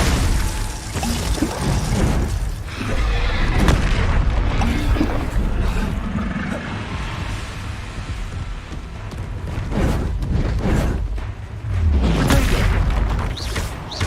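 Spells Glacius and Confringo cast in rapid succession during combat in the video game Hogwarts Legacy, loud booming and shattering bursts over a dense, continuous action mix with repeated impacts.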